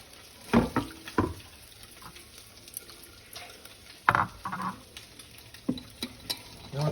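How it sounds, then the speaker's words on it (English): Sporadic sizzling and stirring sounds as carnitas and onions fry in a pan on the stove, with clatters of a utensil scraping and tapping against it. "our pan here that's frying up the carnitas"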